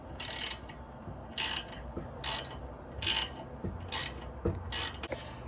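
A steering adjustment on a Jeep Wrangler being loosened with a hand tool, giving several separate bursts of metallic ratcheting, each about half a second long, with short pauses between them, close and moderately loud.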